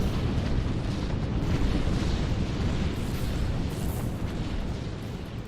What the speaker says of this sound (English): Ground forces are under planetary bombardment.